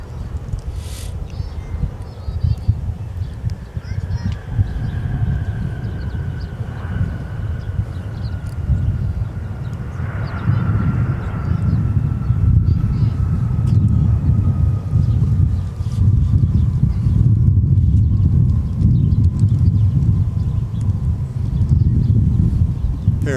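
A Sun Country Boeing 737-800 arriving at Minneapolis–St. Paul airport after a flight from Orlando, its jet engines roaring steadily in the distance with a thin high whine drifting over it, heard through buffeting wind.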